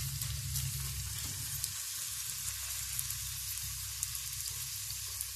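Potato pancake batter sizzling in hot oil in a pan, a steady dense crackle that runs unbroken, with a low hum underneath and a few faint pops.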